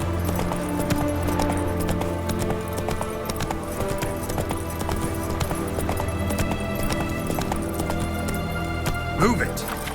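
Roach the horse galloping in The Witcher 3, with steady rapid hoofbeats under a continuous music and ambience bed, and someone speaking briefly over it.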